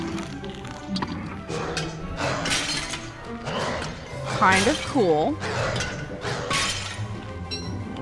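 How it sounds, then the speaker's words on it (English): Pots smashing in the video game Don't Starve Hamlet, a series of sharp shattering crashes and clinks in quick succession, heard under someone talking over the gameplay. "smashing pot"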